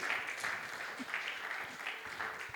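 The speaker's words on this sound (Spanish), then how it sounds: "Dale un fuerte aplauso al Señor." A church congregation applauds at a service, a steady wash of many hands clapping for a couple of seconds at moderate level, with faint voices mixed in.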